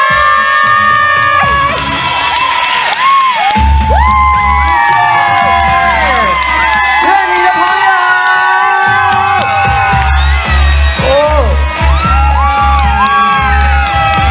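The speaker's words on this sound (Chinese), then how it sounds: "让我们掌声欢迎许" A concert crowd at the Yuanli rice food festival in Miaoli cheers, whoops and shouts for a singer, a loud, sustained roar of many voices with high shrieks over a thumping band intro.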